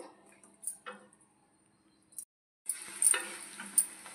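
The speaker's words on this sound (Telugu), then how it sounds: "టమోటాలు మగ్గుతున్నాయి కదండి" Tomatoes cook in a pan for tomato chutney, with soft intermittent sizzling and stirring scrapes broken by a brief pause.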